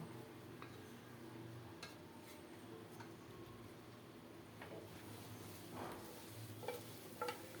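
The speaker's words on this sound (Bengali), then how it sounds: "ভেজে রাখা আলুগুলো দিয়ে দিলাম আরও কিছুক্ষণ নেড়ে চেড়ে কষিয়ে নেব" Fried potatoes with spices being stirred in a pan on low heat, a soft sizzle beneath scraping and clinking of a spoon against the pan, close and without talk.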